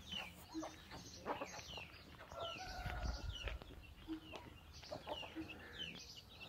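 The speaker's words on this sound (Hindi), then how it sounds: "इधर हमारे बड़े डंगर और छतरे मुर्गियां सब सुबह का नाश्ता हो रहा है जी।" Chickens cluck and call around a farm while eating their morning feed among cattle, several soft overlapping clucks at moderate distance with a brief crow-like call.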